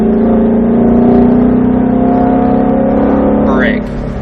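A Ford Shelby GT500 on a track, its engine droning steadily and swelling as throttle is fed in, loud and close, with a voice coaching the driver over it before the note drops away near the end.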